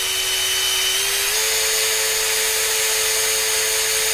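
A steady, high-pitched whine of a drill grinding into a phone display continuously at close range, its tone stepping up slightly partway through.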